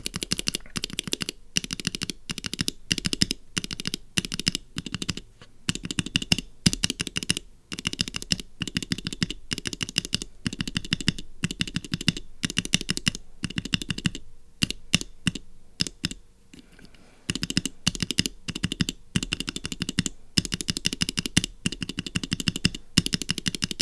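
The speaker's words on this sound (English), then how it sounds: "the unlubed switch is the most loud. You hear all the scratch and plastic rubbing against plastic." Unlubricated mechanical keyboard switches clack steadily under fast typing, with a dry plastic-on-plastic scratch in each press, close and busy throughout and a brief lull near the middle.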